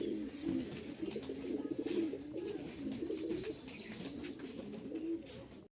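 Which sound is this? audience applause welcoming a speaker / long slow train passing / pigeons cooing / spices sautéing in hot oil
pigeons cooing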